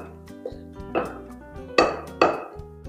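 Cooked apple mixture for a Neapolitan Annurca apple tart is spooned into a container, with several sharp clinks and scrapes of a utensil against the dish, close and distinct, with quiet pauses between.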